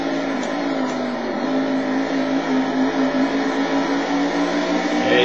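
Panoz LMP prototype race car held at full throttle in Total Immersion Racing, a loud sustained high engine whine with steady pitch, close and continuous, with no voices.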